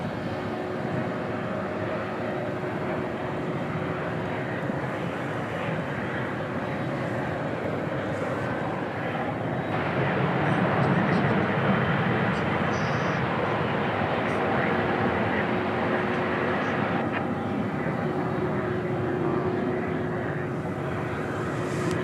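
A jet airliner departs DFW Airport at night bound for Chicago Rockford, its engine roar a broad steady rumble that swells midway and holds, heard from a distance under intermittent radio chatter and talk.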